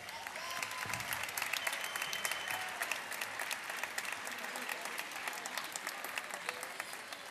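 Sustained applause from an audience at the opening ceremony of a university sports games, steady dense clapping with sharp individual claps standing out, moderately distant and continuous throughout.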